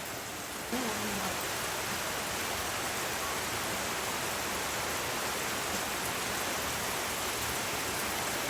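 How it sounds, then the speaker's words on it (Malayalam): Heavy rain pours down outside a village home in Kerala, a dense, steady hiss that holds unbroken from start to finish with no voices over it. "നല്ല മഴയാണ് ഇവിടെ"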